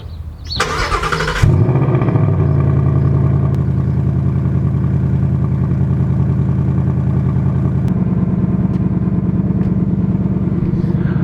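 A 2019 Ford Mustang GT's engine cold-starts with a starter whir and loud catch, then settles into a steady, deep, burbling idle that holds close and constant, with a slight change in tone partway through.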